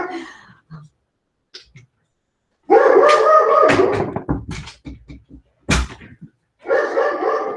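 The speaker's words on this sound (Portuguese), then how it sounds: "meu cachorro não para de latir" A dog barks repeatedly in irregular bursts, fairly close and loud, with a few short thuds and quiet gaps between.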